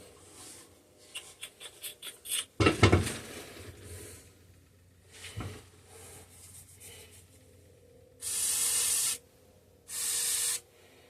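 Two bursts of penetrating fluid sprayed onto a rusty 1950s Bolens Power Ho garden tractor, each a short steady hiss near the microphone, following earlier scattered handling clatter and a sharp knock.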